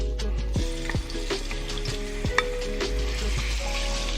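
Chicken pieces sizzling in hot olive oil in a HexClad wok, a steady loud frying hiss with occasional scraping and stirring clicks, no talking.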